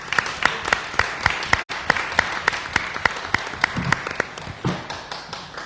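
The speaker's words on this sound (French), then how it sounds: "Merci beaucoup Adel, on peut vous applaudir." Sparse applause from a small group at a municipal council meeting, distinct individual claps ringing out at a steady pace with a brief break partway through, moderately close in a quiet room.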